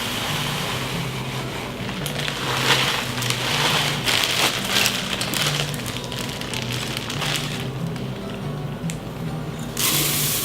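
Dry oats are measured and poured, a soft continuous pattering rustle with scattered light clicks and a brief louder rush near the end, heard close with no talking.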